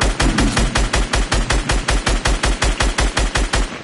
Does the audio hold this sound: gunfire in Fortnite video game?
yes